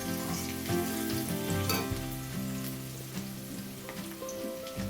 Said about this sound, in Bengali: আগে একটু পেঁয়াজ আর লঙ্কা কুচিটাকে ভালো করে ভাজবো